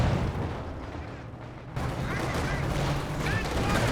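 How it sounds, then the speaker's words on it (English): A T-34 tank's machine gun rattles out a burst during a Company of Heroes 2 battle, sharp clattering shots mixed into constant explosions and combat noise while a commentator talks. "That was a big burst from the T-34's machine gun."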